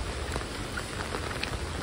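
Monsoon rain in Rajapur in the Konkan region falls steadily, a soft continuous hiss of drops on surfaces at moderate distance with no talking.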